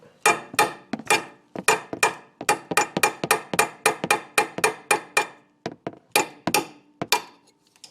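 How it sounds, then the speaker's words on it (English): A hammer drives a punch to knock out a ball joint rivet, with about twenty sharp metallic strikes in a fast, steady rhythm, close and loud, each ringing briefly before the next. "Now try it with the punch."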